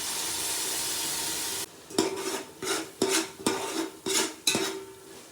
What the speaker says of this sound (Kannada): ಈಗ ಹುಣಸೆಹಣ್ಣು ರಸ ಹಾಕ್ಕೊಳ್ಳಿ.